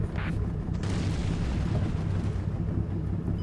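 An artillery shell strikes in the military strategy game Combat Mission Shock Force 2, a dense sustained rumbling explosion that fills the short moment with heavy low roar and scattered debris noise, no talk over it.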